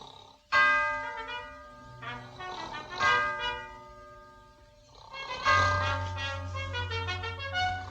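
Ship's bell rings in paired strokes, struck twice in quick succession then twice more after a pause, each ring bright and resonant with a long decaying tail, accompanied by a low rumbling background.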